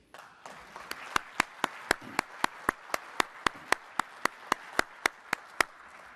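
At a military leadership award ceremony, a round of applause comes through as sharp, evenly spaced claps, crisp and distinct at a steady tempo over a quiet room, like a small group clapping in time.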